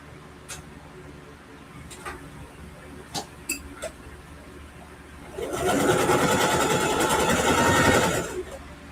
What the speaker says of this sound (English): Now we're going to sew the bottom.